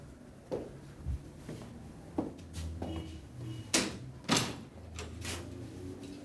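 Door and latch sounds in an office: a series of sharp clicks and knocks, some louder than others, spaced irregularly over several seconds against a quiet room.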